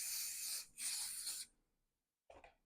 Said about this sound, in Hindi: इसे मैं हार्ड स्प्रे लगाकर थोड़ा सा क्लियर कर दूंगी दोनों साइड से